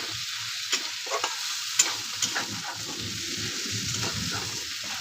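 Prawns and figs (dumur) being sautéed for a curry in a pan, giving a steady soft sizzle under scattered light stirring scrapes and taps, close and fairly quiet throughout, no talking.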